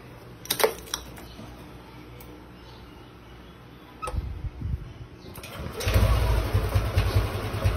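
A Yamaha Aerox or NMAX scooter with its TPS disconnected has a few clicks and a brief crank, then fires up and settles into a loud, close, uneven idle.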